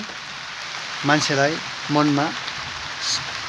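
Steady patter of rain, a constant hiss close by, with a person speaking briefly over it twice.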